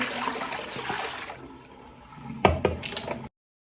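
Water used to wash makeup brushes is poured out, giving a running, splashing flow that fades and then ends in a few sharper splashes and drips, close and fairly loud, before a short silence.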